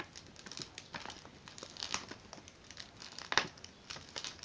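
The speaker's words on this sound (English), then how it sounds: "I forgot to take a sticker off, but that's okay. I just take it off." A sticker peeled off a plastic envelope gives short crinkling and tearing crackles in quick bursts, close and fairly faint, with no voices.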